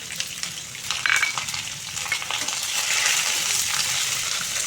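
Two large chopped onions hit hot oil in a pan for a chicken dish, a loud, steady sizzle that swells as they are stirred, with a few scraping clinks of the spoon against the pan.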